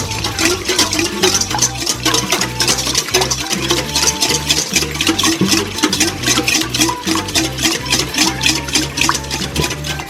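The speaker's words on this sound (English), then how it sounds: "Whisk that." Whisk beating two eggs into melted butter in a bowl, a fast steady clatter of metal tines against the bowl, loud and close, with no talking.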